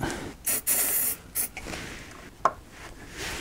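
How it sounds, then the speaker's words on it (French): Short bursts of silicone lubricant sprayed from an aerosol can while reconnecting an ABS sensor cable on a Renault Twingo, two brief close hissing puffs followed by faint rubbing and a small click. "Pour faciliter, j'utilise du lubrifiant silicone."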